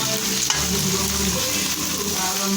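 Filipino ginisang sitaw, string beans sautéing in a pan: a steady, close sizzle and frying hiss runs throughout with a light clatter of stirring, and no voices.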